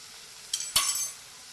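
A brief stir of tomato and salt into a green turmeric curry in a pan, two quick clinking scrapes of a spoon against metal over a quiet background.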